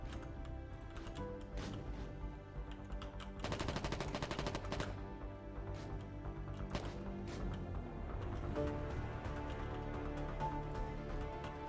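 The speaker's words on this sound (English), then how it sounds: "It's a powerful gun." A powerful, overpowered gun fires in a shooter video game, with rapid repeated shots and dense bursts of gunfire over steady game sound, no talking.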